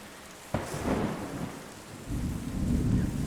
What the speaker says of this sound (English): There's thundering in the background.